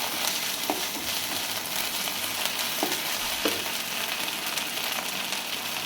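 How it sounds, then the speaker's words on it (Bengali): Ginger-garlic paste fries in a pan with a steady, soft crackling sizzle, broken by a few light scrapes or stirs of a utensil, with no voices. "এবার আমি আদা রসুনের পেস্টটা দিয়ে দেব সামান্য। হালকা হাতে ভেজে নেব।"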